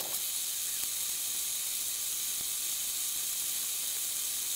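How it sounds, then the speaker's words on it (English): An Apple iPhone 6s sits in boiling hot water, giving a steady, even hiss of bubbling with a couple of faint ticks and no change in level throughout. "let it just keep boiling."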